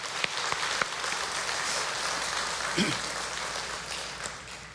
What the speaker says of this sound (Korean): 하나님 앞에 감사의 박수를 돌립시다.